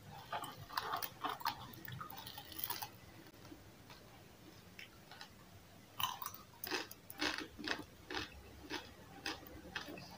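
Quiet, close crunching bites of puffed rice come in irregular bursts, a crisp chewing of something light and airy, with brief pauses between mouthfuls.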